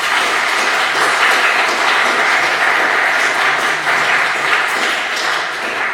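Applause from an audience at a university food science research talk in Spain, dense continuous clapping filling the whole stretch at a steady level, with no voices over it.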